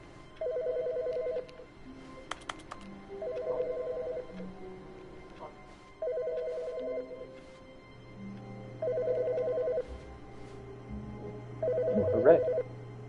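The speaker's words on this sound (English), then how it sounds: "whose phone is ringing?" A telephone rings in a recurring pattern of short bursts evenly spaced over several seconds, moderately loud in a room with faint background noise.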